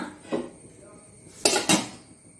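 A metal lid settles onto a cooking pot of food simmering in water on a gas stove, with a light clink early on and then two sharp, bright clatters close together, quiet between them.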